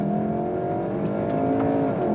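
A 2014 Volkswagen Golf R revs steadily to 3,500 rpm and builds in pitch as it launches hard, a continuous loud acceleration with no talking.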